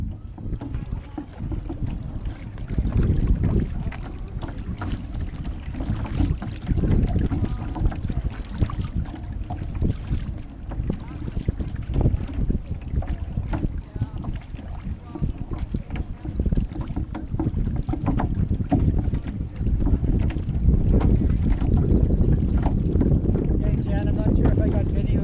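An OC1 outrigger canoe is paddled on open water, the strokes blending into a continuous wash of water and heavy wind buffeting the microphone, with a voice giving paddling cues over it.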